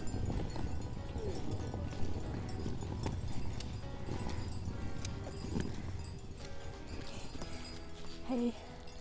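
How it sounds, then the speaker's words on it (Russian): Cowbells on grazing cows clank faintly and irregularly in the distance across the Swiss Jura mountains, set against a steady wash of outdoor background noise. "Если слышишь вдалеке колокольный звон, это коровы пасутся."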